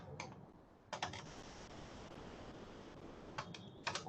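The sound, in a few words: typing code on a computer keyboard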